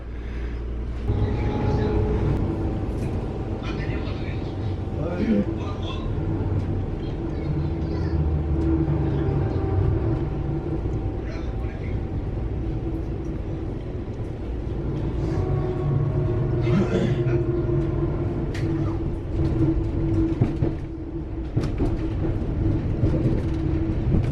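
A passenger train runs toward Bletchley, a steady low rumble with faint squeals and clatter heard from inside, continuous and moderately loud throughout.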